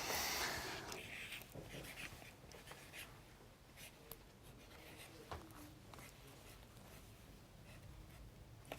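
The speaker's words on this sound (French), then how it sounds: "Donc tu vas écrire son prénom parce qu'on va avoir besoin de son prénom" A small marker scratches across paper as a first name is written, producing soft, intermittent squeaky strokes close by in a quiet room.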